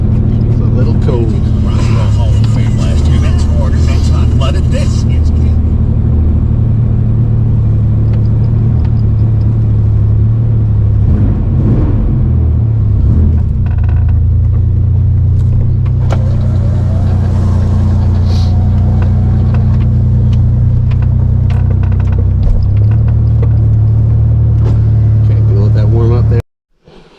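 A first-generation Toyota Tacoma engine idles right after a cold start, when it is running rough. A loud, close, continuous low rumble holds steady throughout and cuts off abruptly at the very end.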